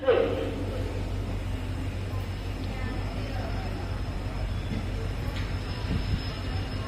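A passenger train on the Bhavnagar to Porbandar line pulls into a rain-soaked station, its steady low rumble and rolling wheels filling the clip with faint squeals, while voices murmur over the noise.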